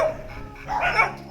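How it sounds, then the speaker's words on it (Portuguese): Dogs at a municipal animal shelter housing around 350 dogs, heard as a brief muffled bark or yelp at moderate distance within a dull ambient background. "Lá, cerca de 350 cachorros estão sob a tutela do município."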